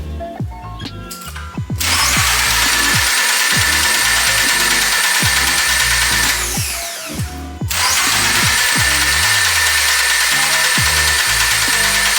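A Toyota GR86 engine cranks with its fuel pump fuse pulled, two long loud starter runs with a harsh whirring grind that never catches, split by a short pause and preceded by clicks.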